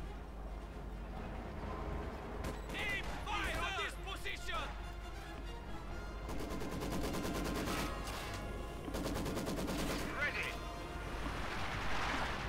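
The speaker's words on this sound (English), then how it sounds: "Another incendiary barrage." Incendiary artillery barrage in Company of Heroes 2, a run of explosive bursts and crackling impacts layered over dense, continuous battle noise and rumble, steady and loud throughout.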